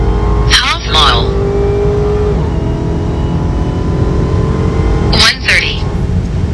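A Dodge Hellcat Redeye accelerates hard from 60 to 130 mph, its engine a loud, sustained roar heard from inside the car, with brief drops in the sound at gear changes and people talking over it.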